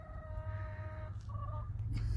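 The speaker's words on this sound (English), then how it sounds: "My birds are singing to me." Pet birds near a garden greenhouse give a few short, faint clucking calls and chirps over a low rumbling background, distant and intermittent, with no voices.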